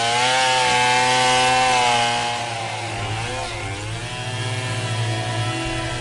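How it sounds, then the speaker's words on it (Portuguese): A chainsaw cuts through wood, its engine whining steadily and loudly, then dipping in pitch as the chain bites into the log and keeps grinding. "com uma motosserra na mão"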